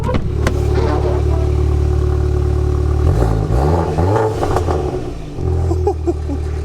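A crash-damaged Audi S1 quattro runs at a steady idle close by, then revs up in a couple of rising surges with some mechanical clatter before settling back to idle.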